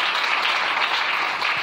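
A church congregation applauding in a dense, steady wash of clapping that fills the space, close and loud, with no break for the whole moment.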